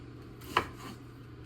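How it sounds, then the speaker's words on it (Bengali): A single crisp knife chop through a guava on a cutting board, close and sharp, standing alone against a low steady background hum. "ওই যে মানে কাটাকাটি করতেছে ভাইয়া"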